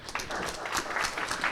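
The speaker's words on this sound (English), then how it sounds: "give her a huge round of applause as well." Wedding reception guests applaud after a toast to the bride and groom, a dense close burst of clapping that stays steady through the short moment.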